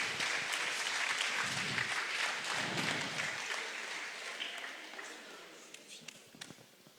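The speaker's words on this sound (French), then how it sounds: "Ça mérite des applaudissements." A crowd in a sports hall applauds graduating baccalaureate students, steady clapping that fades over several seconds into scattered claps and room murmur, with a voice heard.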